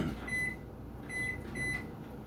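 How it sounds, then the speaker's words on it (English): An electronic timer at a dual-wielding drill session sounds three short, clear tonal beeps at an even pace over a steady low hum of room noise. "Let me start that timer for you guys."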